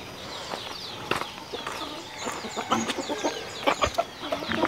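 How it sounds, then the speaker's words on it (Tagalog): A captured red junglefowl chick peeping and chirping in quick, shrill bursts alongside clucking fowl, all close and fairly loud, with no voices. "ito nga po pala yung nahuli ko sisiw na labuyo"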